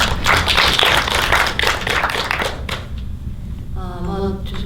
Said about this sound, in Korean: 일단 박수 부탁드릴게요